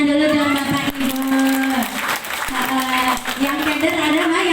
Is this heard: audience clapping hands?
yes